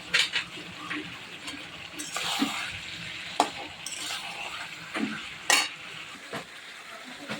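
Beef is stir-fried and sautéed in a pan, with a soft sizzle under repeated sharp scrapes and clinks of a spatula against the pan. The stirring strokes come at irregular intervals, close and fairly loud, with no talking.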